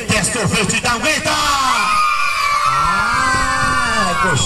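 A crowd of children at a clown show at Croco Beach yells back loudly in response to a clown's question, with overlapping whoops and drawn-out shouts that rise and fall for several seconds.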